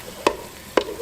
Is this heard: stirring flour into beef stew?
yes